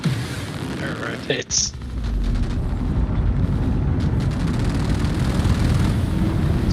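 A Corsair spaceship blows apart in Star Citizen, a sharp loud blast followed by a sustained roaring rumble of space combat, with voices chattering over the din.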